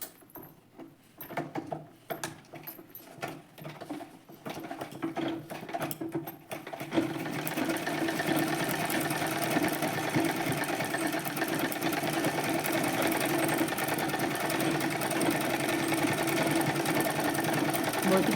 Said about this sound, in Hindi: लेस के पास एकदम सिलाई लगा रही हूँ, दोनों साइड लगा लूँगी।